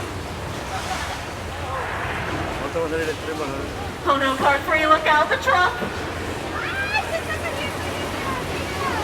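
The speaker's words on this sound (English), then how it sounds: "Looks like we're getting a little California tremor." Simulated earthquake on the Universal Studios Hollywood tram tour: a steady rumbling, rushing roar that swells into louder crashing bursts midway, with riders talking and shouting over it throughout.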